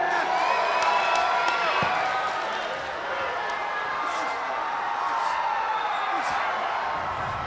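A capacity wrestling crowd at WCW Saturday Night cheers and whoops in a steady, roaring wash of noise, with a commentator talking over it.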